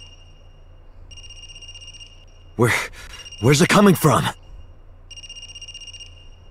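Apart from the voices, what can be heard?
cell phone ringing in a video game (AI: The Somnium Files)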